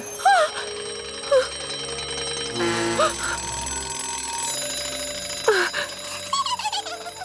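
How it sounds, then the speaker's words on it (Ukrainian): Several cartoon alarm clocks ring and chime in a steady bright jangle through the whole stretch, with tonal beeps and melodic bursts layered on top, fairly loud and close, with no talk. "Знову ці будильники просто кошмар якийсь."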